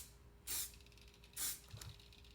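Spray paint hisses from a can onto a pair of Crocs in two short, separate bursts, with a fainter third puff after them, all quiet and close against a low background.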